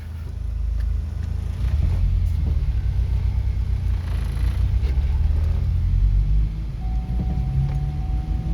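A Chevrolet Cobalt SS driving around a corner, a steady low engine and road rumble heard from inside the cabin with no pauses.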